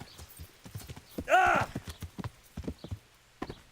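Quick clip-clop of horse hooves in the video game Kingdom Come: Deliverance under a talking voice, with a short whinny in the middle and a steady trotting rhythm.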